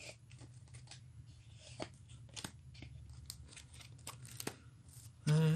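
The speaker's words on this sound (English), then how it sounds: "We will shuffle up the German deck." A deck of cards being shuffled during a tabletop war game, with soft riffles and taps against a quiet room background, ending in a brief louder bump.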